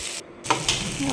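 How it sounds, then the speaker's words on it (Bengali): Mustard paste masala sizzling in hot oil in a pan while being stirred, a close, continuous frying hiss with brief scraping clicks from the spoon and a short pause. "এটা একটু ভালো করে কষিয়ে নেবো, নেড়ে চেড়ে, যতক্ষণ না তেল ছেড়ে আসে মশলাটা দিয়ে"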